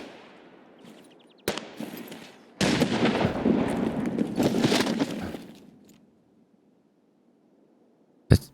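Bursts of gunfire in Escape from Tarkov crackle in a dense volley lasting a few seconds, followed by quiet and one last sharp shot.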